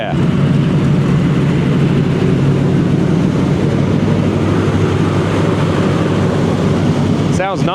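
A truck engine runs steadily after a manifold repair on a swapped motor. It gives a loud, even, continuous hum with a low throb and no obvious knocking, held close for several seconds before a brief change at the end.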